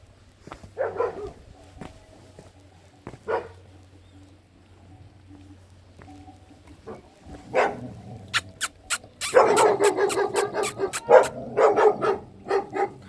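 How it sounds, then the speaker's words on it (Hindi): A dog kept at a house in a warm valley area gives a few scattered barks at first. Then a rapid run of sharp, close barks and yips follows. Low rumbling background noise runs underneath. "इस घर में कुत्ता पाल रखा"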